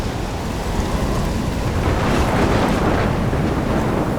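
Thunderstorm in the video game Life is Strange near a lighthouse, heavy rain roaring steadily with a deep rumbling thunder swell building midway, loud and dense with no talk.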